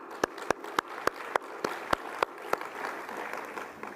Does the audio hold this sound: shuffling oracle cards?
no